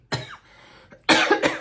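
Two separate coughs sound close to the microphone, a short single one followed by a heavier double cough, with no talking.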